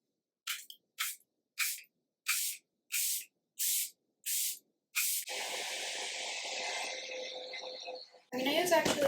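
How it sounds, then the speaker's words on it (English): Seven quick bursts of a pump spray mist in steady rhythm, close up, followed by a longer continuous hiss and rustling. "you already know what setting spray I'm gonna use."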